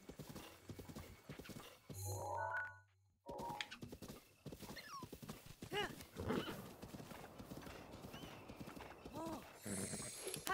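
A horse in Zelda: Breath of the Wild, heard as rhythmic clip-clop hoofbeats through most of the stretch, with a sharp neigh or whinny and a few thunks, fairly close and clear.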